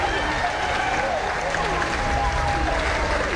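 Spectators applaud steadily as athletes reach the finish line of a 3,000-metre race at an athletics meeting, the clapping steady and moderately distant beneath a commentator's voice.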